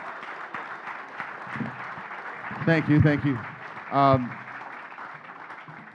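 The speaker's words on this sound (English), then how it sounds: "One more round of applause" A festival industry panel's audience gives one more round of applause, a moderate, steady wash of clapping. A voice briefly speaks over it, and the applause continues softly afterward.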